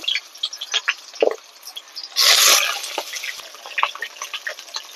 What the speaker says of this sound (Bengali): তেল গরম হয়ে গেলে আমি কেটে রাখা সবজিগুলোকে আলাদা আলাদা করে হালকা ভেজে নেব।